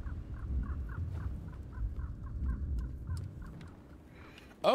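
Crow caws in The Pathless video game: a steady series of about a dozen evenly spaced, moderately loud calls over a low rumbling game ambience, ending with a brief sharp burst.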